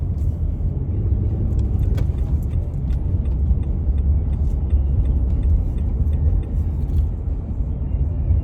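A car drives through busy late-morning road traffic near an intersection, giving a steady, loud, continuous low engine and road rumble throughout with no talking.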